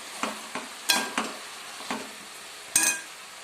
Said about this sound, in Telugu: ఈరోజు అయితే దొండకాయ ఫ్రై చేస్తున్నానండి